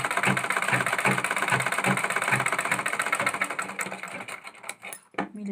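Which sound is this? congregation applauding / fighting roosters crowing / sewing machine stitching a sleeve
sewing machine stitching a sleeve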